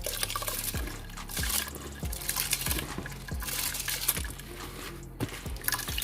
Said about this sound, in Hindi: अब मैं चावल ऐड करूँगी